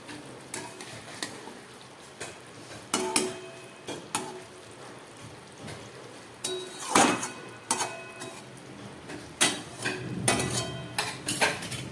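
A pot of fish curry is lifted off a gas stove, metal cookware knocking and clinking in a series of sharp, close clanks and scrapes, with no talking.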